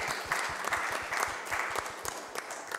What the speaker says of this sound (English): So give yourselves a big round of applause.